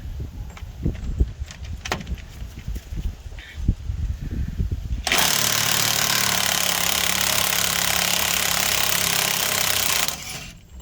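Scattered clanks and taps, then a loud, continuous pneumatic rattling from a power tool removing a pinion nut on a 1998 GMC K1500 for about five seconds before it cuts off abruptly.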